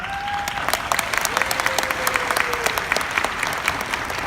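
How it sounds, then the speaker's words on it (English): A crowd applauds at a business talk about a GPS promotion, with dense, steady clapping at close to moderate distance that continues for several seconds. No one speaks over it. "That is something that deserves a round of applause for Scott and Wendy just signing up on that."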